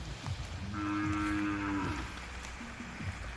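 A large red cow with a calf moos once in a long, low, drawn-out call, fairly close, with quiet outdoor farm ambience and faint bovine grunts around it and no talk.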